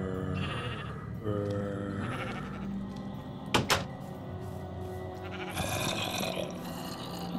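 A few wavering sheep bleats in Minecraft sound over game music and ambience, with a sharp double click or thud in the middle.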